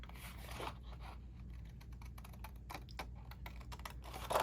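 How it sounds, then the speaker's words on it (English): Scissors cutting paper while trimming nativity layout pieces: quiet, irregular crisp snips and rustles, close and faint, with no talking. "I am going to cut the other pieces with scissors just because I feel like it will be easier"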